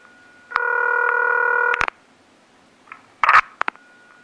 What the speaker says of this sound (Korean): 전화 연결을 했는데요